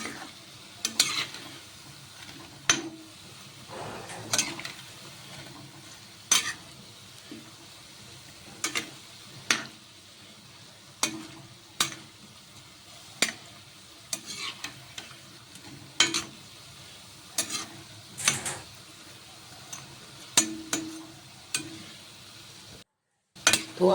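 Lauki (bottle gourd) koftas frying in hot oil, golden brown, with a steady soft sizzle broken by repeated sharp scrapes and stirs of a spoon against the pan, close and fairly loud, no talking.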